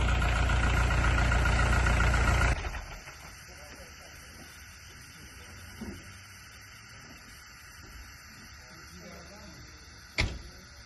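A Fora 504 tractor working a real field to break up the soil roars loudly for the first couple of seconds, then falls away to a low, distant rumble with faint background sounds.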